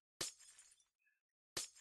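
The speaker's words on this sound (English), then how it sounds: "Crash, crash, crash as I break all the glass" Glass blocks shattering in Minecraft, two sharp crashing bursts about a second and a half apart, with a faint chime between them.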